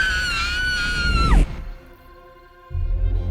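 A girl's loud, high, dramatized scream rises and then slides downward before cutting off, leaving a faint tonal drone, followed by a low rumbling swell near the end.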